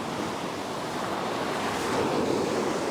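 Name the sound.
ocean waves surging and sucking back on beach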